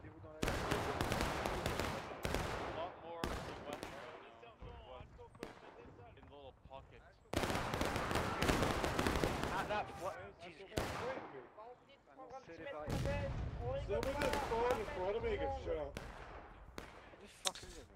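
Musket volleys in the video game War of Rights, repeated loud bursts of gunfire cracking in clusters with gaps between them, shouted commands and talk mixed in throughout.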